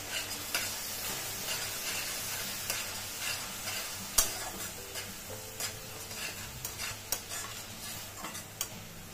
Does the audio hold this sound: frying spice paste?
yes